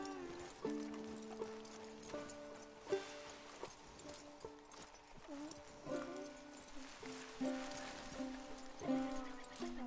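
Rhythmic clip-clop of horse hooves in the video game Red Dead Redemption 2 over a steady musical backdrop, the hoofbeats regular and moderately loud, occasionally joined by a faint whinny.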